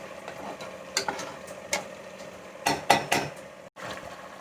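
A spoon stirs vatha kuzhambu in a metal pot, giving irregular clinks and scrapes against the pot over a faint background simmer, close by and without talking.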